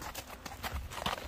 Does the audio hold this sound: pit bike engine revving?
no